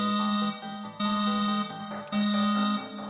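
A Japanese television earthquake early warning alarm plays as a loud, repeating electronic chime of bright tonal notes, sounding in three quick bursts with no speech.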